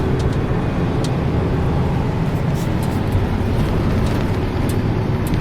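A car being driven on a rainy day, heard from inside as a steady low road and engine rumble with constant broadband hiss, loud and unbroken throughout.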